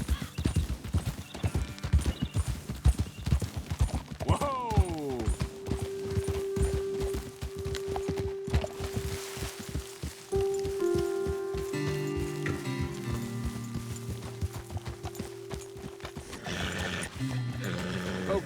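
Horses walk with steady clip-clopping hooves and whinny early on in the Red Dead Redemption 2 video game, over light rain and a sustained musical drone, fairly close and continuous.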